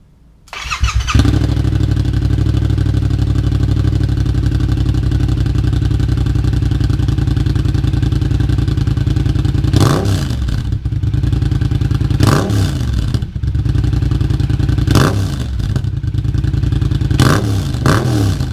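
A 2015 Yamaha FZ-07 motorcycle with an aftermarket M4 exhaust cranks and catches, then settles into a loud, steady, throbbing idle close by. Several sharp throttle blips follow in the later half, each a brief rising rev.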